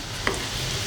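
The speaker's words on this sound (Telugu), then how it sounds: "కొంచెం కాసేపు ఇలా వేయించుకొని వెంటనే తీసేసేయండి" Potato rolls frying in hot oil for a light golden-brown aloo snack, with a steady soft sizzle throughout and one brief stir or tap near the start, no voices.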